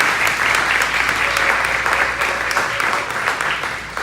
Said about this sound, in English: I first want to give a round of applause to our interns